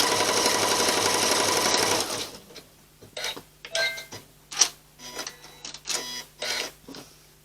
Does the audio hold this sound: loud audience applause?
no